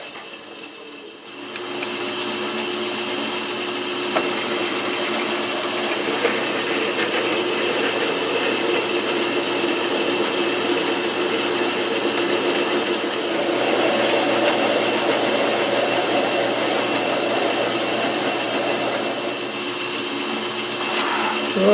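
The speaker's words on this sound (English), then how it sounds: "now we're going to cut the spindle to length" A South Bend 11-inch lathe cuts a tailstock spindle to length, giving a continuous whirring machine drone that starts after a short pause and holds steady and fairly loud throughout, with no voices.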